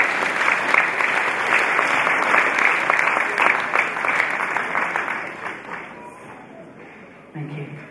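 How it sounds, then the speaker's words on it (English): A church congregation at a funeral home-going service claps steadily in loud sustained applause that fades toward the end, with a voice speaking over the clapping. "Clap your hands and welcome her."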